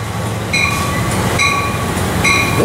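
A BNSF freight train rumbles steadily past at Fullerton, its horn sounding repeated high-pitched tones in three bursts, loud and close, no talking.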